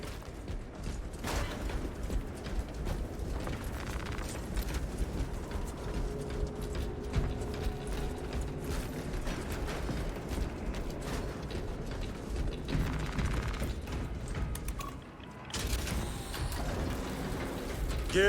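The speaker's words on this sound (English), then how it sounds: "Gears are grinding." Heavy bridge machinery grinds and creaks in the Space Marine video game, a steady mechanical rumble with ratcheting, clanking gear noise running throughout, loud and continuous with a short dip near the end.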